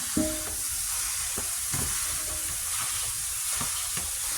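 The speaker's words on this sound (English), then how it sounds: "We're going to put our ground beef in here and get a good sear going on." Ground beef searing in a hot pan on the stove: a steady, broad sizzle and hiss throughout, with occasional soft stirring scrapes, close and continuous, no talk.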